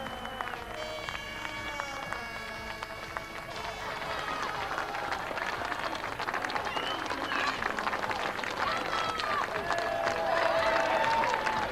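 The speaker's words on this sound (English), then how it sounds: "award it with a massive Brands Hatch cheer to the 2005 champion, Matt Neal" Crowd at the Brands Hatch circuit in 2005 cheering and applauding a British Touring Car champion on the podium, a steady, rising wash of clapping and shouts with whistles, busy and continuous throughout.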